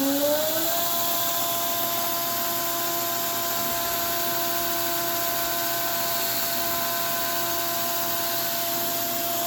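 A G0752 metal lathe spins up from a rising whine into a steady, close, continuous motor hum with stable tonal drone and no pauses, running alone without talk.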